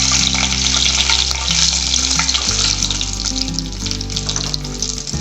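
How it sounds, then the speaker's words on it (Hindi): Bay leaves and cinnamon sticks sputter in hot oil with crackling cumin seeds, the base for a matar methi malai curry. A loud, dense, continuous frying sizzle fills the whole stretch, close and unbroken. "थोड़ा सा हम इसे 1 सेकंड के लिए ऐसे भूनेंगे।"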